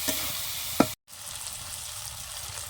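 Snail meat frying with spices in a pan, a faint continuous sizzle with one brief scrape of a utensil, a short dropout, then the low hiss resuming.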